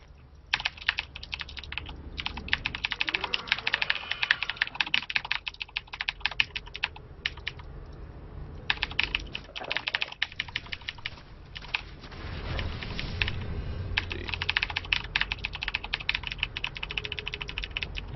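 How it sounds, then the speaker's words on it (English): Laptop keyboard typing, fast irregular clicky keystrokes in bursts with brief pauses, close and fairly quiet, with no talking. "I'm typing on the laptop to you guys"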